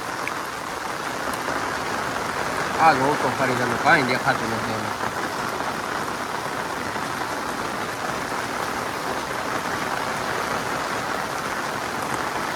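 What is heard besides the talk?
heavy rain falling in Gir forest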